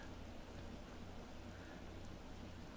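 Steady rain falls throughout a cold Skyrim landscape in the video game, a dense even hiss of drops with faint low rumble beneath, constant and unbroken, no voices present.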